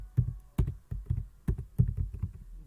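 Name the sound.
typing a command on a computer keyboard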